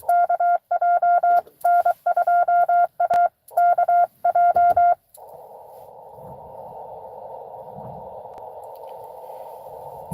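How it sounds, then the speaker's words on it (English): Morse code CW tones from an amateur radio station working a Parks on the Air activation, sent as a steady tone keyed in fast dots and dashes, loud and close, then giving way to a continuous hiss of band noise. "I'm just a Morse code operator that enjoys CW."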